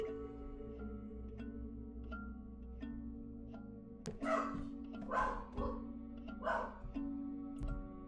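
A dog at home barking at a delivery man, a burst of loud, close barks in the second half over a steady background game-music drone.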